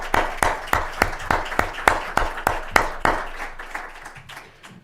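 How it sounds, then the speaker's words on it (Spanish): Audience applause for Beatriz at a press and power event on digitalization, heard as a series of sharp, evenly spaced claps that start strong and gradually fade over about five seconds. "Un aplauso para Beatriz."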